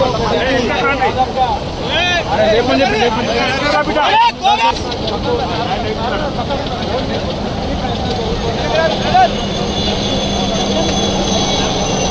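Loud, continuous roar of a helicopter overhead during flood rescue operations in Rajanna Sircilla district, with crowd chatter and voices underneath the engine noise.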